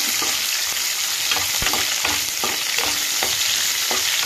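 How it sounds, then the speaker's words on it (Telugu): Pepper, fennel, dried chillies, garlic and shallots frying in hot oil give a steady, dense sizzle, with faint scraping stirs recurring about every half second and no voices. "మిరియాలు, సోంపు, ఎండుమిరకాయలు, తెల్లగడ్డ, ఆరోది ఎర్రగడ్డ ఇవన్నీ బాగా ఫ్రై చేయాల."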